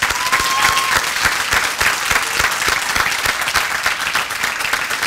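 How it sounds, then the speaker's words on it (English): A high school graduation audience gives a round of applause for students in a college-credit program, dense, loud clapping from a large crowd sustained throughout with crisp individual claps near the front. "To those people who have been in PSEO, could we please give a round of applause?"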